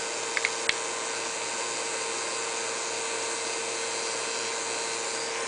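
A robot's small electric motor spins steadily with a constant, even whine and hum. A few light clicks come near the start, with no talking.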